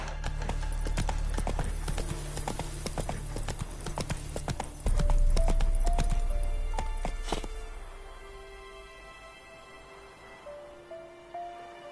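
Roach the horse galloping in The Witcher 3: rapid, loud clip-clop hoofbeats that slow and fade after a few seconds.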